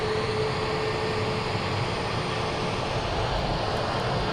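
Engine of a British Airways Airbus A321neo jet, a constant broadband roar that holds at an even level throughout, close by with no voices over it.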